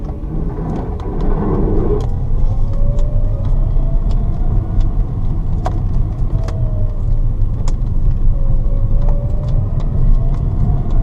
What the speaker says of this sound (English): I'm in first gear right now.